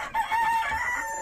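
A chicken at a farm henhouse gives a short, loud, drawn-out call up close, a single sustained vocalization lasting about a second.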